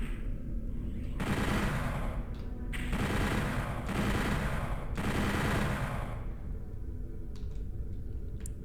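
Sustained automatic gunfire from the shooter Doom 64, dense rapid bursts in several long stretches with brief gaps, loud and close, dying away to faint scattered noises at the end.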